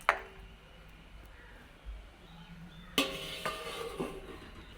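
A lid is set onto a pot of simmering bitter gourd curry, landing with a single clear metallic clank followed by a few lighter rattles against a quiet kitchen background.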